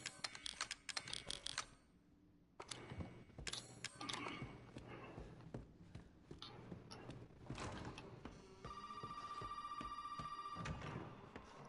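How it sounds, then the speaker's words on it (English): A telephone rings inside the Resident Evil 7 game world, a steady electronic ring near the end that sits among clattering footsteps, door sounds and other in-game noise. "Ignore the phone call."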